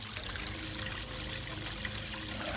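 Water runs again through a repaired garden waterfall. The flow is a steady, even splashing and trickling wash, moderately distant and unbroken, with no voices.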